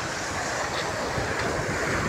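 Ocean surf rolls steadily, a dense continuous wash of crashing waves that fills the scene, mixed with wind buffeting the microphone, with no voices.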